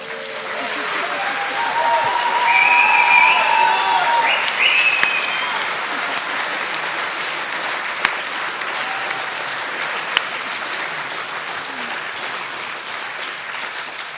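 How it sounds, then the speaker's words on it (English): An audience at a talk on stage bursts into applause, a dense clapping that swells and then gradually thins out, with a few sharp claps standing out near the end. "We'll see if we can get a bit more of that applause later"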